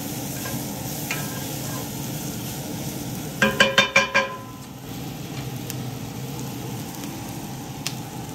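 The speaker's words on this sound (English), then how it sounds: "Sweat the onions." Onions sweating in a pan give a low steady sizzle throughout, with a quick run of four or five clicking knocks partway through and no talk.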